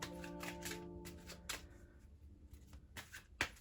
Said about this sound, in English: So I'm just going to give the cards a shuffle.